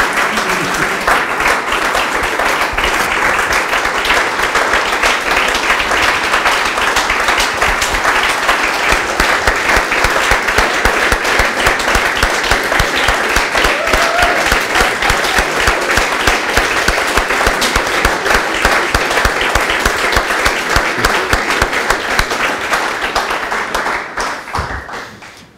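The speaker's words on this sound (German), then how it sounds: "Kleiner Applaus." An audience at a talk on monetary reform applauds in a long, loud, continuous burst of dense clapping that holds steady for over twenty seconds before tapering off at the end.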